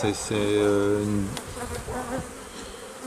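Honeybees drone on a hive frame during a full hive inspection, a close, steady tonal buzz that holds for a second then breaks into looser, fainter buzzing.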